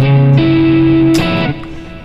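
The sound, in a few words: electric guitar with single coil pickups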